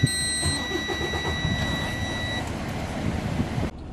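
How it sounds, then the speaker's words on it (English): A truck engine cranks and starts during a pre-trip safety check on a Frozen Food Express rig, with a brief warning buzzer and a steady, close, mid-level engine rumble that cuts off near the end. "We're going to start the engine."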